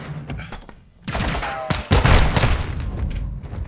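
A flashbang grenade bursts in the Modern Warfare 2 (2022) campaign, a loud sharp boom with a ringing tone, set among gunfire and thuds in a close-quarters fight.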